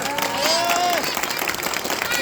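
An audience at a Pokémon voice-acting talk at a geek convention breaks into a brief, quiet burst of applause. Scattered clapping comes from a distance beneath a faint sustained tone.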